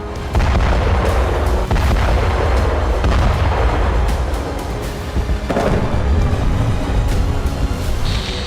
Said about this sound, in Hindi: यहां पर रूस ने KS-22 क्रूज मिसाइल से विध्वंसक वार किया